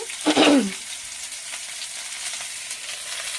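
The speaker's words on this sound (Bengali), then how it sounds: "আলুটা ভেজে নিচ্ছি লাল লাল করে।" Potatoes fry in oil in a pan until browned, giving an even, close sizzle after a short louder burst of noise at the start.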